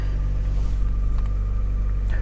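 A 2012 Chevy Cruze Eco's 1.4-liter turbo engine idles close by, a steady deep rumble with an even hum and no breaks.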